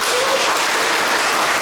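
An audience at a lecture event applauds to welcome a speaker, a dense, loud, even roar of many hands clapping that holds steady throughout.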